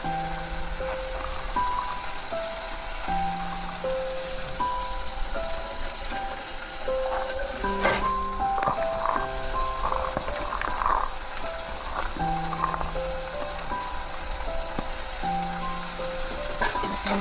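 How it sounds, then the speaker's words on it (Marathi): Fresh green peas frying in a pan with softened tomato for a potato and pea dry curry, a steady close sizzle running throughout under a bed of background music. "मी ह्या ठिकाणी इथे वटाणा देखील फ्राय करून घेईन"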